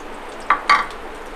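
Peanuts, onion and tomato roast in a pan, a soft low sizzle with two quick metallic scrapes of a spatula close by.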